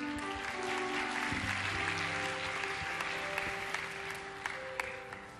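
Congregation in a church service clapping to welcome a pastor to the pulpit, sustained crowd applause with a steady texture and a few sharper claps standing out near the end.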